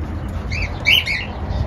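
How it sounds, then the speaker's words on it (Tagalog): Several short, shrill lovebird squawks rise over a steady low background rumble, with the loudest call near the middle, at a farm in Saudi Arabia. "Ayun oh, halang cute mga lovebirds."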